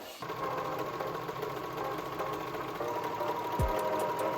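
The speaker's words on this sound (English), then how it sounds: "So now I need to overlock this stitch" Overlocker stitching the seam of leopard-print pants, with a steady, close mechanical whir and rapid stitching hum running throughout and a short thump near the end.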